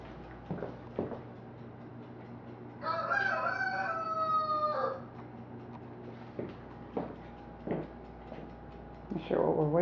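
A rooster crows once, fairly close, with a drawn-out harsh call, surrounded by scattered clucks, bumps and room noise.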